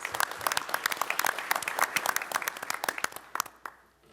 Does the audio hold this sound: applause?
yes